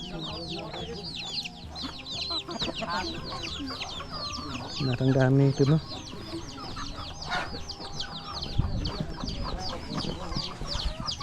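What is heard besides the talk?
chickens clucking on a hill farm in Laos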